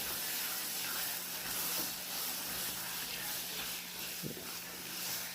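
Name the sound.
boiled white beans added to sizzling masala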